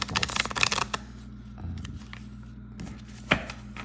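A small mass-market oracle card deck shuffled by hand, with a dense riffle of crisp card flutters at first, quieter handling in the middle and a final snap, close up and without talk.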